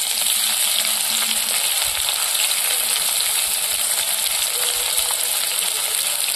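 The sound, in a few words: chopped onion frying in oil with spices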